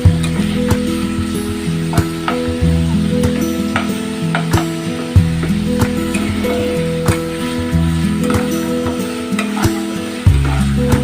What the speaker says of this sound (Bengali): চাউমিন করার জন্য সবজিগুলোকে খুব একটা বেশি ভাজার প্রয়োজন নেই, তাই হালকা করে নেড়ে চেড়ে এগুলোকে ভেজে নেব।